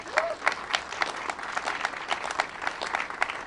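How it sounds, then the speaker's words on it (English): Audience applause for a state lawmaker at an event about an in-state tuition bill, a steady patter of many hands clapping across a room, fairly close and unbroken. "So he deserves a round of applause,"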